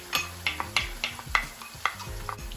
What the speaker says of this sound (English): pot is hot and now I'm going in with some of my chopped garlic. After which, going in with my chopped scallion.